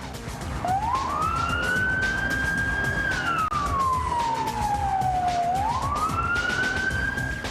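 An ambulance siren in Ukraine wails continuously, rising, holding, falling slowly and climbing again over several seconds, loud and close with traffic rumble underneath.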